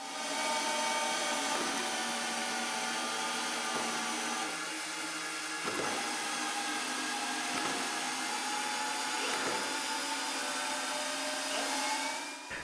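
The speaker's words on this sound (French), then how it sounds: "C'est quand même assez long de visser des vis de 15 pouces." Power drill driving 15-inch screws through two stacked 8x8 wood blocks, a steady high motor whine with regular brief dips as the drill strains and restarts, continuous and fairly close, no speech.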